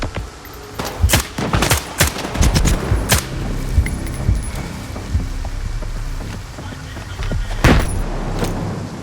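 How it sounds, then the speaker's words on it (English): Rapid bursts of gunfire crack out in clusters in the video game S.T.A.L.K.E.R. 2: Heart of Chornobyl, then a lone loud shot later, over a steady rumbling background with no voices. "Where's that gunfire coming from?"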